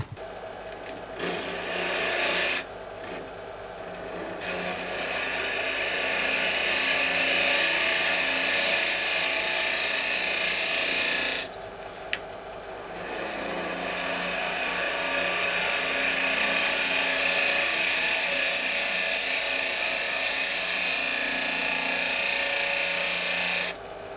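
A wood lathe spins a walnut box blank as a tool cuts a tenon, a loud continuous whirring hiss with a brief break midway, close and steady without talk.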